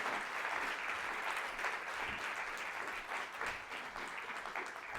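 A seated audience at a panel event on women and work applauds steadily, a thick, even roar of many hands clapping that holds at a constant level throughout.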